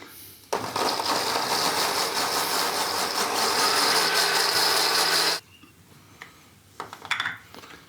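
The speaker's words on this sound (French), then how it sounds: "Juste dans le mixeur." A blender whirs steadily for about five seconds, blending husked physalis fruit for a coulis, loud and close, then cuts off, leaving quiet handling noises.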